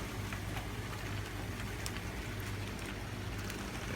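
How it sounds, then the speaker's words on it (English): Rain beginning to fall outdoors makes a steady, soft hiss with faint scattered drop taps, quiet and even throughout, with no speech. "Well, it's starting to rain."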